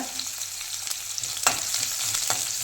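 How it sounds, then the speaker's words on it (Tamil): Mustard seeds and onion frying in oil in a pan for fish curry, giving a soft continuous sizzle with a few sharp crackles and pops, heard close with no voices. "ஒரு 1/4 டீஸ்பூன் கடுகு போட்டுக்கோங்க. போட்டு வெங்காயம்"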